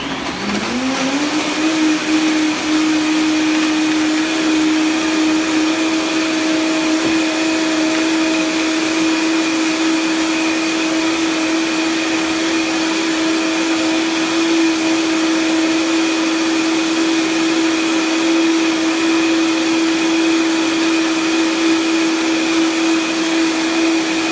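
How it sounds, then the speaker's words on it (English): A powerful blender runs at high speed, pulverizing nuts into nut milk. Its motor spins up within the first second or two, then holds a loud, steady, even whine and whir throughout. "I'm going to pop the top on and blend it at high speed."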